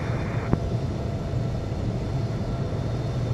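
Airliner taxiing to the runway in the Infinite Flight game, a steady low engine rumble and hum with a single faint click near the start, no voices.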